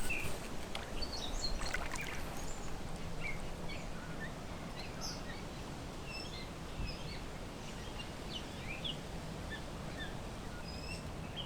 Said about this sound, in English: I don't know if you can hear those birds.